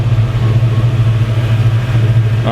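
A deep, steady rumble of a Chevrolet C10 squarebody truck's 6.0 LS V8 idling through a Magnaflow exhaust, low and throaty with a pulsing burble, close by and continuous.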